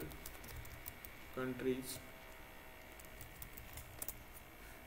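Brief run of key taps as a Linux terminal command is typed on a computer keyboard, faint and close, with someone speaking over the keystrokes.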